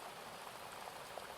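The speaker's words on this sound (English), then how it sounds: "large raindrops striking the windows" Large raindrops strike windows as a storm approaches, a soft, even patter of rain on glass, faint and continuous with no voices.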